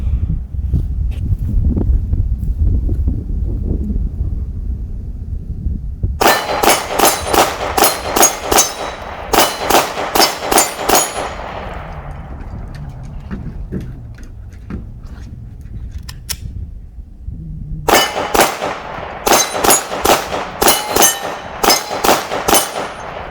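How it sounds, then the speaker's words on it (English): Glock 43X pistol fired outdoors in quick rapid strings, loud sharp reports in two volleys with a pause between them and a low rumble of wind or handling noise before. "All right, shooting these two back to back."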